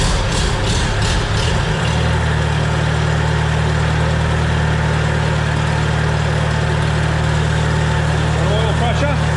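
A Farmall Super C tractor engine cranks briefly, then catches and settles into a loud, steady, low-pitched idle that runs close by, with no talking over it.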